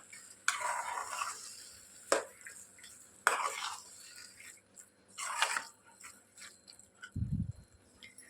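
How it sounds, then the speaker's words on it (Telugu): Sweet raw-mango pickle is stirred in a pan over a medium flame, giving several distinct scraping sweeps and a few spoon knocks, separated by pauses over a faint sizzle, with one low thump near the end. "సో మీడియం ఫ్లేమ్లో పెట్టేసుకొని దీన్ని కలుపుకుంటూ ఫ్రై చేసుకోవాలి"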